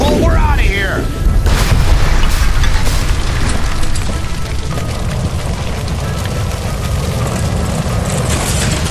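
A gas line explodes with a heavy, loud boom inside a building in L.A. Noire's Nicholson Electroplating case, followed by a roaring, rumbling aftermath that lingers for several seconds.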